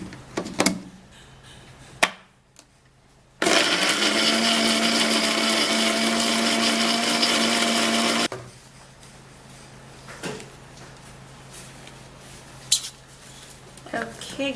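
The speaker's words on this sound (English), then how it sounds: "Then we'll have to blend it really smooth" A kitchen blender whirs loud and steady for about five seconds as it purées cucumber pieces until smooth. Quieter handling knocks and clicks come before and after.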